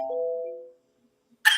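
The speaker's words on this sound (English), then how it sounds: "I have this gong." A single strike on a gong rings out as a clear metallic tone that fades over about three quarters of a second, followed after a short silence by a brief, bright burst of noise.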